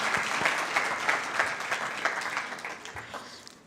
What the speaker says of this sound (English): just a round of applause for all the judges who helped us through all of them